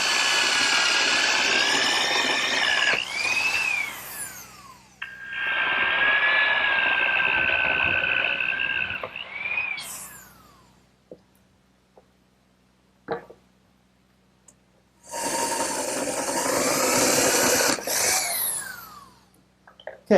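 A power drill bores angled 12.5 degree holes into wood on a rocking horse build, whining in two long bursts, then a pause with small knocks, then a third loud burst of motor whine and cutting.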